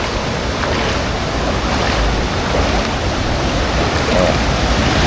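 A strong, deep river current roars in a loud, unbroken wash close by, mixed with buffeting wind on the microphone and no clear gaps.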